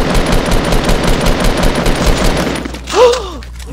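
Rapid automatic gunfire from a Fortnite Battle Royale match rattles loudly and continuously for most of the clip, then cuts off into a brief lighter game sound near the end.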